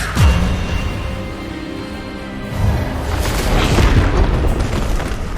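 An Expelliarmus spell goes off in Hogwarts Legacy with a sharp whooshing burst, then a deep, loud, rumbling boom that swells and lingers for several seconds.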